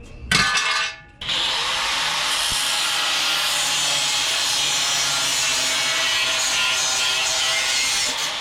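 A power tool cuts and trims a car bumper support, opening with a brief harsh grinding burst and a short pause, then a long steady high-pitched whining cut, close and loud with no voices.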